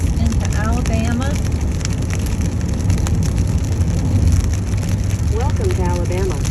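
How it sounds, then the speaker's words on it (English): Steady rain hiss fills the scene, with faint bird-like chirps or squeaks now and then; the wash of rain is constant throughout. "The rain has followed us here."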